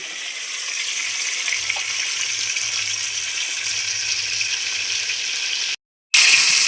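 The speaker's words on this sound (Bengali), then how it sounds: "এদিকে মাছ ভাজতে দিয়েছি" Fish frying in a pan of hot oil, a loud, even, continuous sizzling hiss that drops out for a moment near the end and then comes back sharper.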